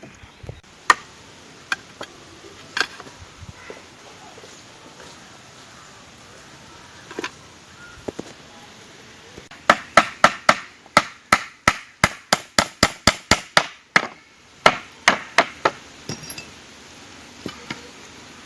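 Wooden pieces being hammered together while building a chair from local timber: scattered single knocks at first, then a fast, steady run of sharp, close hammer blows, followed by a few more spaced strikes.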